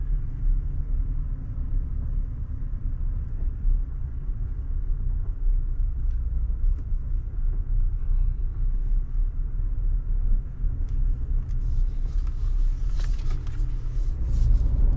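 A vehicle drives slowly and turns around in a residential cul-de-sac, giving a steady low engine rumble and road noise from inside the cabin throughout, with no talking.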